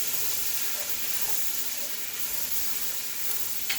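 Okra frying in a pan for a seafood stew, a steady, dense sizzle with a faint stir or clink near the end, close and continuous.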